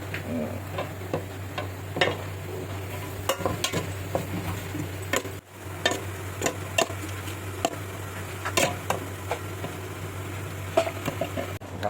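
A spoon stirring beef curry (kaeng om) in a pot, with light irregular clinks and scrapes against the pot over a steady low simmering hum, close and fairly quiet, and no talking.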